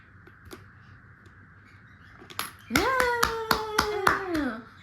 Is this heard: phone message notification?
no